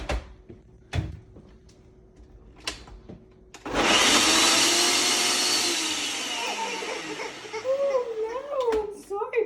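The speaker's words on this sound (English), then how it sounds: "And you can mix it for just a little moment." A blender roars to life midway, churning frozen ingredients into ice cream with a loud, steady whir that dips as it runs, after quiet moments with a voice and light talk nearby.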